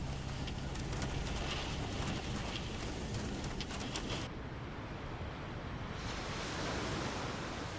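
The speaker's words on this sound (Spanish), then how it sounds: "las olas atacan las costas oceánicas" Ocean waves crash against the coast in a loud, continuous roar of surf, a dense wash of breaking water that swells and eases slightly over the stretch with no voices.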